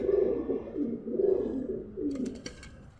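Pigeons cooing at a pigeon farm, rolling repeated coos close by, with a few sharper chirps near the end.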